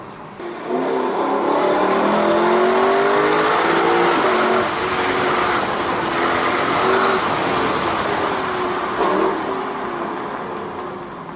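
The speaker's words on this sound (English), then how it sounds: "Oh, the car downshifts, you hear that?" A Lexus LC500 convertible downshifts on the road, its engine and exhaust rising in a loud, sustained rev that climbs and falls over several seconds, close and continuous.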